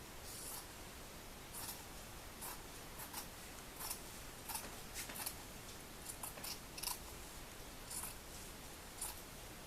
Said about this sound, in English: I'll just cut on the line